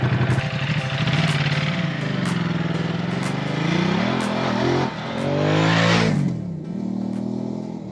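A Ducati Multistrada motorcycle pulls away on a hot summer morning ride, its engine revving up through rising and falling pitch sweeps with shifts in between, loud and close throughout.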